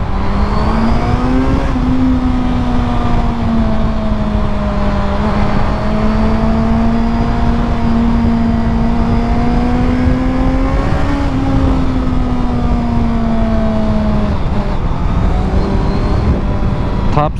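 Engine of a Honda CBR 650F motorcycle revving and accelerating toward top speed, a loud, steady, close drone whose pitch climbs gradually, dips briefly at a gear change near the end, with no talking.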